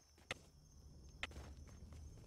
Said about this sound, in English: I heard like 5 footsteps at once.